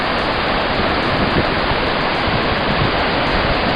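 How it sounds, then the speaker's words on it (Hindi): Waterfall beside the Himalayan trekking trail to Gaumukh and Tapovan, a loud, steady, broadband roar of falling water filling the scene without a break, close by and with no voices. "झरना,"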